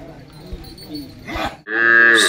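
A nearby Khillar cow at a cattle show lets out a loud, drawn-out moo at the end, after a few seconds of low shuffling and background noise.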